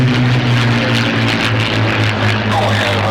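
Rolls-Royce Griffin-engined Spitfire Mark 19 flying at an air show, a steady loud engine drone with low harmonic tones throughout, close and continuous with no break.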